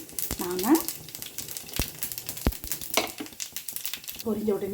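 Chana dal and cumin seeds frying in oil: a light crackling sizzle with a few sharp pops and faint utensil clicks, heard close, while someone talks throughout.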